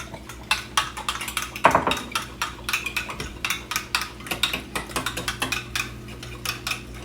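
Spoon scraping and clanking against a metal pot while an oxtail mixture is stirred, a dense run of close, rapid knocks and scrapes with no talk.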